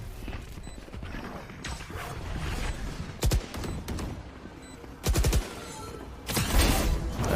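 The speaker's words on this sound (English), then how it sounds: "Shooting up rafters." Gunfire in the video game Valorant as rafters are shot up, bursts of sharp shots standing out at intervals over a steady busy game background.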